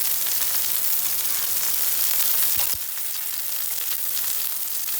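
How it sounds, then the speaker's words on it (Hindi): Chicken kebabs frying in a pan over medium-low heat, a steady close hiss of oil with a brief bump partway through, after which the sizzle continues slightly quieter; no speech. "मीडियम टू लो आंच पे आपने इन्हें फ्राई करना है"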